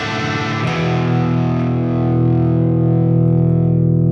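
A distorted electric guitar strikes a chord from a riff, then lets it ring out thick and sustained, the gritty tone holding steady to the end.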